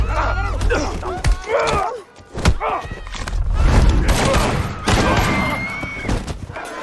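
Rapid gunfire from a crime film fight scene crackles in bursts, mixed with heavy thuds, groans and voices, loud and close.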